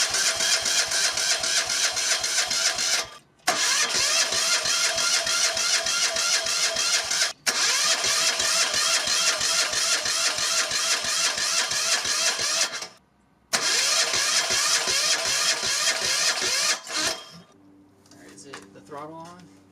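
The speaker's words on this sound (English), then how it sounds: "I think it is officially time to take this outside and start it up" The diesel engine of a homemade stand-up motor scooter cranks and runs in loud chugging bursts, cutting out briefly several times before settling into a quieter idle. Voices can be heard nearby.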